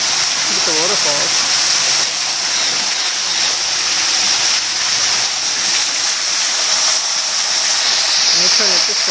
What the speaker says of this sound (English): Look at the waterfalls.